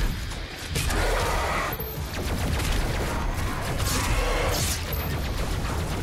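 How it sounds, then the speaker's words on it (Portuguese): Dense, continuous machine gun fire and chaotic combat noise in the first-person shooter DOOM Eternal, a loud steady barrage with crashes layered over it for several seconds. "agora eu tenho que me livrar dessa metralhadora"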